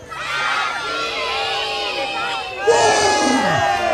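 A crowd of children shout a name together as loudly as they can at a mascot dance show in Sappada, Italy; many young voices sustain a ringing chorus that swells louder and brighter in its second half.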